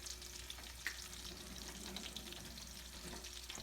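Meatballs browning in a hot pan, a steady soft sizzle and crackle of frying throughout, faint and even, with a small clink partway through.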